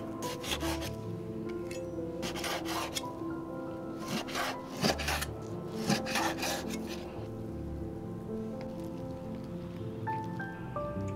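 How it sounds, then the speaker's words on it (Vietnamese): A knife chopping pork belly into small pieces on a board, giving bursts of quick rhythmic cutting taps separated by short pauses, close and fairly loud, with no talk. "Trong lúc chờ mình sẽ cắt phần thịt ba rọi này."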